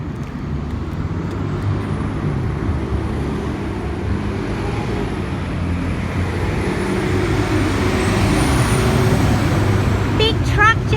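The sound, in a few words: big truck driving past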